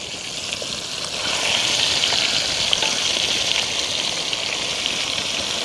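Quail pieces fry in hot oil for a village-style street food recipe, a loud, steady crackling sizzle close at hand with scattered sharp pops, continuous throughout.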